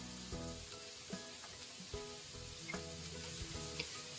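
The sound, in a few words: stir-frying cabbage with glass noodles in a wok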